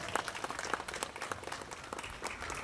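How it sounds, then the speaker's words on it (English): Crowd at a school event for NEET exam toppers applauds themselves, a faint, continuous patter of many hands clapping with no voices on top. "Can we applaud for yourself?"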